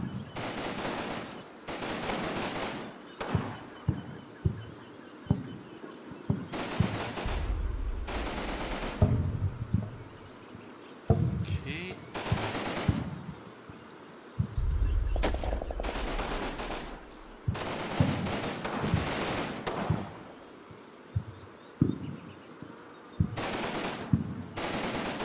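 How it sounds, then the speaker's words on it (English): Gunfire in the Combat Mission: Battle for Normandy video game, including anti-tank gun shots, comes as sharp bursts and single cracks scattered across a steady background, moderately loud and without talking. "that was the anti-tank gun firing on poor observers"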